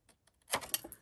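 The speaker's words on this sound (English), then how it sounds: "So I'm just gonna use my snips and trim that right off" Paper snips cut through a strip of patterned designer series paper, trimming it off: a quiet start, then a short burst of crisp, close snipping and rustling that lasts about half a second and trails off.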